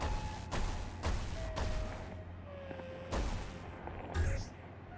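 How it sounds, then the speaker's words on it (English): Laser shots in the Caves of Qud video game: a series of sharp, short bursts at roughly one-second intervals, moderately loud, with quieter electronic tones and faint background sounds between them. "Lasers flying around down there."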